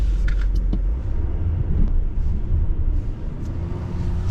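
A 2024 Silverado Duramax dually pickup on its first test drive, its deep engine and road rumble heard from inside the cab. The sound is loud and steady with a few faint rattles and clicks, and no one speaks.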